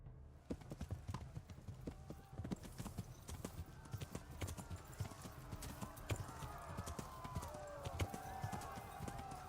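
Horse hooves clip-clop steadily in Kingdom Come: Deliverance, a rapid, even rhythm of sharp hoof strikes over a low rumble that continues throughout at moderate loudness.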